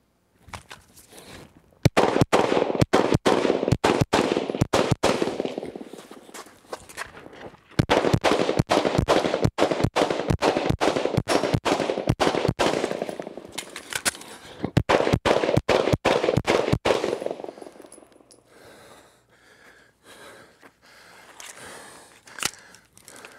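Pistol shots ring out during a marksmanship drill with combat movement on a shooting range: three long strings of rapid, loud cracks separated by short pauses, then a few sparse shots and quieter handling noise at the end.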